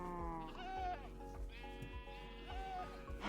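Lambs bleat repeatedly in the TerraFirmaCraft Minecraft game, several wavering cries overlapping across a steady farm-animal backdrop, loud and close.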